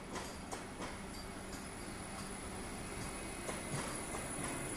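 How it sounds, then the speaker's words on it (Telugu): A Vande Bharat Express passenger train rolls by with a steady rumble, rhythmic wheel clicks on the rails and a faint high whine. "వందే భారత్ చూడండి ఎంత తెల్లగా ఉందో"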